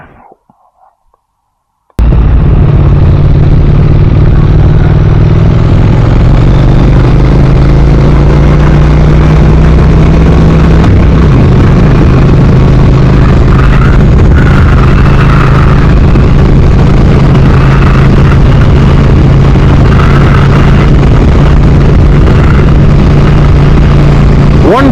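A Triumph Thruxton R motorcycle engine roars loud and steady while riding, a continuous deep drone mixed with rushing wind after a brief quiet start.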